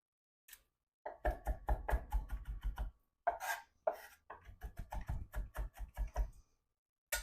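A knife chopping frozen habanero peppers on a board: quick bursts of sharp, close knocks in rapid runs, separated by short pauses and a couple of brief rustles.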